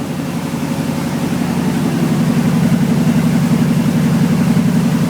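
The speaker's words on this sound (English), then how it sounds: "These old GM TBIs go onto a really high idle when they're cold" A 1992 Chevrolet 454 SS big-block V8 with GM throttle-body injection runs at a high cold idle, a loud, steady, close rumble that settles into an even pulsing drone with nothing else heard.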